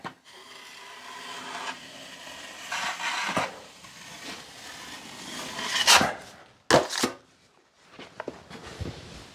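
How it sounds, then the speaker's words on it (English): A drywall knife held at a flat angle drags joint compound across a drywall seam under heavy pressure, giving a steady close scraping rub with a few sharper slaps and clacks toward the end; no voices. "With a knife at a good flat angle. Bring it across with a lot of pressure. Get that mud spread out."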